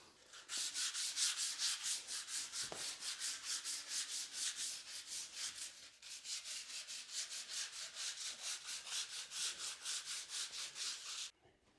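Rhythmic back-and-forth sanding strokes on 150-year-old wooden floorboards, a steady series of rasping scrapes with a brief pause midway, close and fairly loud.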